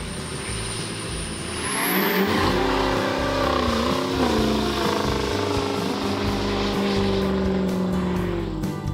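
A Chevrolet Squarebody four-wheel-drive pickup engine runs steadily and loudly throughout, with a low rumbling exhaust and a rising rev partway through, no voices.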